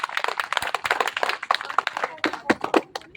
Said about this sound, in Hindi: जोरदार ताली, ताली नहीं रुकना चाहिए।